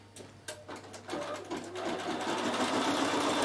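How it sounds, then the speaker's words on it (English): A Bernina 7 Series embroidery machine starts up after a few soft clicks, then settles into a fast, steady mechanical stitching chatter as it embroiders a name, close and fairly quiet. "now I'm going to show you how it embroiders the name"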